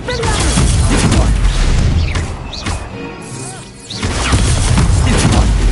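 Hogwarts Legacy spell blasts boom and crash in quick succession during combat, loud and close, easing briefly to a quieter stretch before the impacts return, with a voice shouting over the fight.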